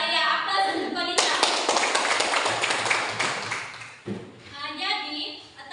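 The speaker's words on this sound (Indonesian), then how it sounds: "Aplaus untuk Konita." A classroom applauds a student with a burst of clapping that lasts about three seconds. A teacher speaks just before and just after it.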